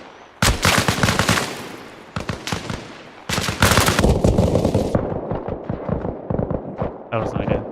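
Dense automatic gunfire and explosive bursts from a Battlefield match, loud and sustained in heavy volleys with brief gaps, while a voice talks over the shooting near the end.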